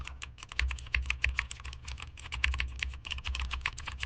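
Quick, continuous clacking as a prompt is typed on a computer keyboard, close and uneven in rhythm, with dense bursts of keystrokes and no talking.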